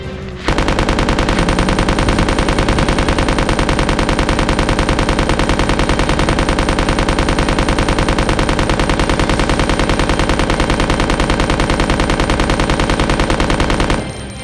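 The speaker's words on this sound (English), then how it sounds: "they're machine guns and it's dual wielding" Two machine guns dual-wielded in Resident Evil Code: Veronica X, firing one unbroken, rapid, loud burst of automatic fire for many seconds, then cutting off abruptly.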